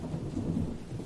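A thunderstorm over an old town at nightfall, with a low continuous rumble of thunder and a steady wash of rain, heard alone without voices.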